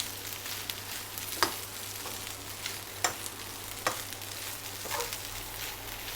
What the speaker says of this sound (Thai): น้ำมันที่เรามาผัดนี่ก็อาจจะเป็นน้ำมันดอกทานตะวัน หรือว่าเป็นน้ำมันมะกอกก็ได้